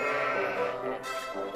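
Sheep bleating in the puzzle adventure game Lost in Play, a steady wavering animal cry lasting throughout, close and clear with no talking.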